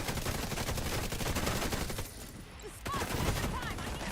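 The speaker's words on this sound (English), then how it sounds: "Watch out for the turret." Rapid, continuous turret gunfire rattles through a video game firefight, dense bursts dipping briefly before resuming at full loudness, with faint game effects chirping over the barrage.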